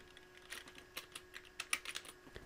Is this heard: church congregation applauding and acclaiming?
no